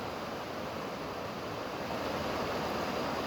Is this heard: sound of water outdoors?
yes